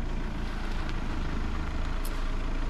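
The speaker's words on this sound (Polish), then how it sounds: "Jak słyszymy, mamy tam diesla pod maską" Skoda Superb 2.0 TDI diesel idling as it is driven onto a dyno, a steady, loud, continuous engine rumble with no pauses or talk.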